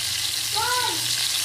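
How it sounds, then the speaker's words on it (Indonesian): Bakwan vegetable fritters frying in hot cooking oil, a continuous close sizzle and hiss at steady loudness with a brief higher tone passing over it. "Saatnya sesi penggorengan bakwan dal."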